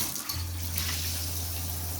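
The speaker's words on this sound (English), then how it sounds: "Water is coming out through the top." Water gushes steadily from a newly installed bathtub spout faucet, a close, continuous rushing stream with a low hum underneath and no talking.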